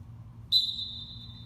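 A single sharp, high referee-style whistle blast rings out as a sprint start command on a training field, starting loud and trailing off over a low background hum.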